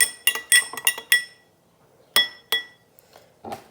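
Glass being stirred during a colligative properties experiment: a quick series of bright clinks, about five in the first second, then two more spaced taps and a faint final knock, close and alone.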